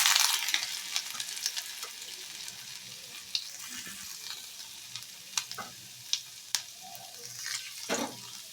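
Ginger, fennel seeds and panch phoron fry in a pan for a fruit chutney, a faint close sizzle running throughout with soft scraping taps and clinks of a spoon stirring.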